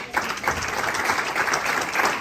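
A church congregation applauds and cheers, sustained clapping filling the space at steady volume throughout, with no distinct speech on top.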